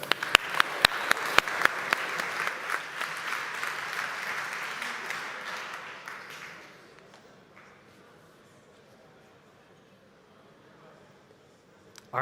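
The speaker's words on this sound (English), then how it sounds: "let's give up a big round of applause for our final speaker" Conference audience applauding a speaker as they come on stage, with dense sustained clapping and a few sharp claps at the start. It fades out after about seven seconds into quiet room noise.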